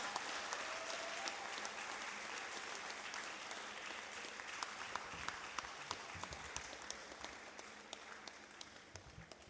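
Sustained applause from the audience at a University of Ibadan convocation lecture, a broad hiss of many clapping hands in a large hall, steady and moderately distant, with a few sharper nearby claps standing out.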